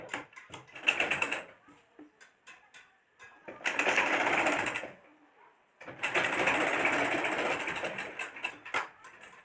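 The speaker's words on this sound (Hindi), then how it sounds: "तो चलिए दोनों में हम सिलाई लगा लेते हैं।" Three runs of rapid machine stitching sew the seams of a churidar pajama. A short burst comes first, then two longer, steady passes, close and loud, with brief pauses of fabric handling between them.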